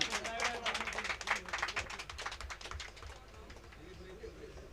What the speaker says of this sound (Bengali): সবাই জোরে হাততালি দিন।